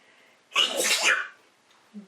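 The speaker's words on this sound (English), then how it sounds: "Oh, I'm going to sneeze." One loud, explosive sneeze close up, a long breathy burst that fades into quiet.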